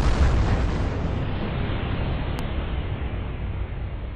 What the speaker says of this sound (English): Luckily for us, stars don't last forever. Just occasionally, they explode.